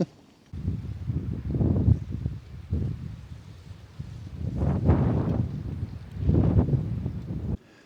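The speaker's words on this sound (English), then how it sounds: "I've just come in the tent a little bit just to get out of the wind." Strong wind buffets a trekking pole tent, the fabric rumbling and flapping in rising and falling gusts that swell loudly several times, heard from inside the tent.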